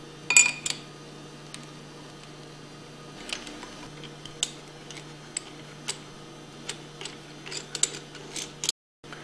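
An Allen wrench working bolts out of the discharge manifold on a Hypro 2535S triplex plunger pump, giving faint scattered ticks and small metallic clicks over a steady low hum, close by and with no talk.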